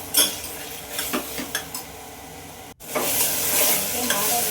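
Tomatoes fry in oil with a steady sizzle, while a spoon stirs and scrapes the pan in repeated close strokes, with a brief break before the frying resumes louder.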